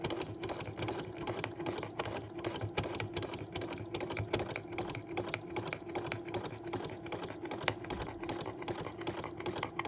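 Sewing machine stitching along a feather outline on fabric, a fast steady rattling needle rhythm that runs without pause, close and moderately loud with no voices.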